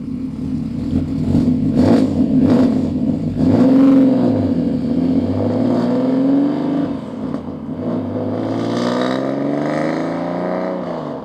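A TVR Sagaris sports car engine pulls hard while driving, loud and close, its pitch rising and falling through revs and gear changes over the whole stretch with no talk.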